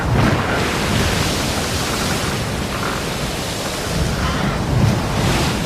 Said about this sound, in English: 25 knot winds out there. It's not workable